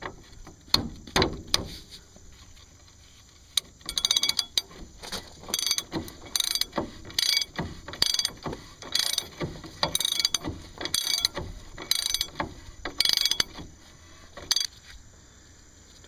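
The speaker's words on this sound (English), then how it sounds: "Now you can take your socket again and put it the rest of the way down." A socket ratchet tightens the castle nut on a threaded upper ball joint of a 2500 Dodge Ram Van, producing bursts of quick, close metallic clicking that repeat in short strokes with brief pauses between them.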